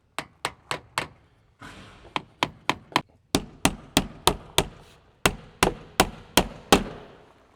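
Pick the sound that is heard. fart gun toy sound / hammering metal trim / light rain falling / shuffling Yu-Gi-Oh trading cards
hammering metal trim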